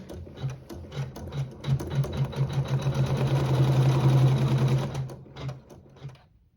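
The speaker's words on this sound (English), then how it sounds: "continuing with the neutral thread, I will sew the tack down" A sewing machine stitches a tack-down seam through quilting fabric with neutral thread, its rapid needle chatter building steadily from a few short bursts into a long continuous run, then slowing and stopping, close and alone.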